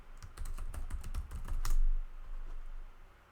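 Keys clatter on a computer keyboard as a docker command is entered: a quick burst of about a dozen crisp, close clicks followed by a couple of softer keystrokes.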